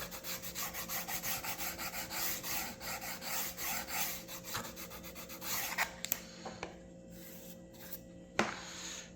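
Wood being beveled for the keel of a Model Shipways Norwegian sailing pram model boat, heard as steady rhythmic sanding or rasping strokes that slow into a few sparse scrapes and taps toward the end, close and fairly quiet.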